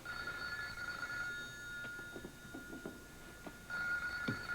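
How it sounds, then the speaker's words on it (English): A telephone bell rings indoors in a bursting electronic trill, faint and slightly distant, with soft background noises between rings. "Can I answer that phone call"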